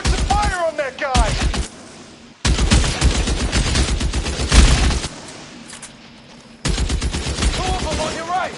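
Loud, close bursts of rapid automatic gunfire from a PS4 shooter game, in sustained volleys with short breaks between them, with a voice briefly heard.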